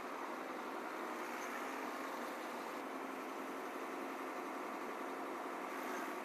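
A 1979 Chevy C30 squarebody truck idles steadily just after starting, a constant, even engine drone with a broad rough hiss, unbroken and moderately quiet with no talk over it.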